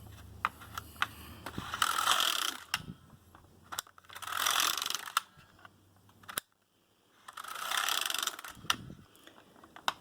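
A knitting machine carriage sweeps back and forth across hem rows in three separate passes, each a rasping mechanical whoosh with clicks and taps between passes and a short quiet gap. Fairly faint and close, with no talking.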